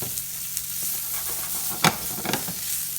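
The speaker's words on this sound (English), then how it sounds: "That chorizo is going to start breaking down, letting out that oil that we want." Chorizo sizzles and fries in a pan for tripe soup, a continuous close hiss of hot oil with a few sharper pops and stirring scrapes.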